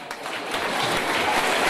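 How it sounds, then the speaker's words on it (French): Brief burst of applause from a crowd, steady and moderately loud, a wash of many hands clapping together with no voices on top. "Et on les applaudit."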